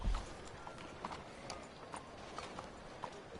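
A horse's hooves clip-clop in a steady, even rhythm as it is ridden through a cramped town in a PS4 video game, a fairly quiet, regular beat of sharp hoof strikes with no talking over it.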